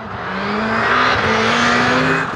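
Four-wheel-drive rallycross cars of around 600 horsepower race on mixed tarmac and dirt, a loud, close engine roar holding steady with rising harmonic tones as one accelerates, with no voices.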